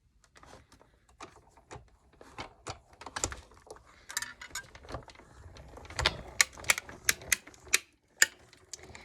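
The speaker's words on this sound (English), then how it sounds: "That's simply the plastic or the acrylic plates that kind of snap and pop." Acrylic cutting plates snapping and popping as they pass through a die cutting machine, a series of sharp, irregular clicks and cracks that grow louder and more frequent toward the end, with no talking.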